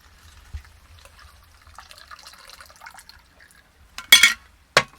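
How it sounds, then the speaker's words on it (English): A cocktail strained into a tropical glass, faint liquid trickling and clinks followed by a couple of sharp, bright glassy knocks near the end, close and otherwise quiet. "I'm going to strain that into my tropical glass."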